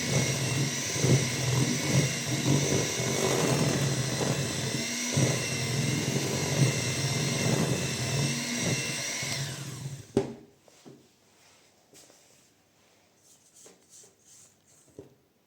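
An electric mixer beating a small batch of chocolate buttercream frosting gives a steady whirring motor drone that runs for about ten seconds, then cuts off, leaving a quiet room.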